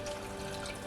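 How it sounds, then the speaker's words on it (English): Water poured onto freeze-dried ice cream, a short continuous splashing trickle heard close up, steady and unbroken for under a second. "220 grams of water"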